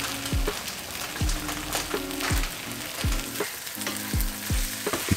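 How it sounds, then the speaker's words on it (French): Vegan scrambled tofu with paprika sizzling in a pan, a steady frying hiss broken by repeated scraping strokes of a utensil stirring at a regular pace, close and clear with no talking. "maintenant tu mélanges, ça prend une belle couleur et tu laisses cuire pendant environ 5 minutes."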